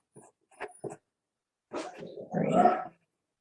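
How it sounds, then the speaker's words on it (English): A dog lets out a few short, sharp barks, then after a pause gives a longer growling bark, close and fairly quiet overall. "Because he does not know how to stop barking."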